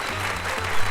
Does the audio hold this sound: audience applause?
yes